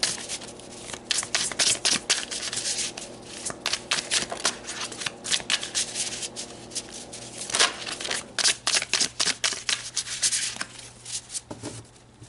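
Tarot cards are shuffled by hand in quick riffling bursts, close and crisp, with short pauses between rounds and a faster run of snappy flutters near the end.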